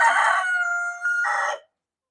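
A rooster crows loudly and close, one drawn-out call followed by a second bird's crow, then abrupt silence.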